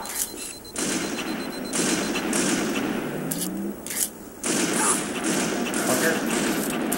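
Bursts of rapid gunfire from a first-person shooter video game come in dense volleys with brief pauses between them, loud and close, with a player's voice breaking in now and then.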